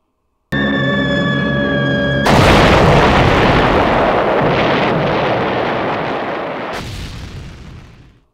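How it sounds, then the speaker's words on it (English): Stop-motion film explosion effect made with 1950s glass Christmas tree ornaments: a steady tonal hum gives way to a loud, sustained roaring boom that swells and then slowly fades out over several seconds. "By using glass Christmas tree ornaments from the 1950s, I was able to create a kind of hybrid explosion at the end of the film."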